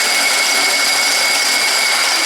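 A drill press runs at 250 RPM with a steady, loud machine whir and a constant high whine, without pause, like a motor spinning at fixed speed.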